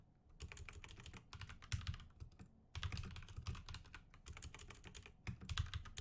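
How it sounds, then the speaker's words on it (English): Keys clatter on a computer keyboard in fast, close bursts of typing broken by brief pauses, with no voices. "I don't know why I'm bothering typing this out."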